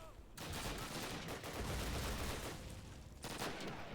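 Sustained gunfire from the 2003 Call of Duty video game's Soviet campaign, a dense volley of overlapping shots lasting several seconds with a brief lull near the end before firing resumes, loud and continuous.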